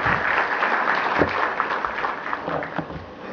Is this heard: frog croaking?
no